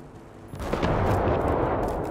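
A hostile machine in Generation Zero opens fire: after a brief quiet moment, a loud sustained barrage of booming shots rolls in close by and continues without a break.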